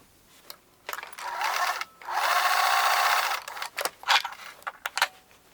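A sewing machine runs in two bursts, one short and one longer and steady, stitching a T-shirt armpit seam, followed by light metallic clicks and handling noises up close.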